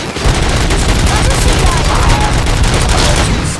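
Video game gunfire from RoboCop: Rogue City, a loud dense continuous barrage of shots and blasts that fills the whole stretch without a break.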